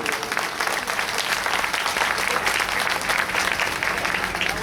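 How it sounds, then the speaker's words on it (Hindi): Crowd applause welcoming a guest at a Bahujan Samaj Party gathering, a thick continuous roar of many people clapping that holds steady throughout. "मैं आपसे अनुरोध करता हूं एक बार उनका तालियों से स्वागत कर दें मेरे साथियों।"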